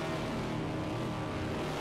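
Stock cars rev their engines on the grid in the racing video game NASCAR 21: Ignition, a dense, loud, continuous engine roar with no talk over it.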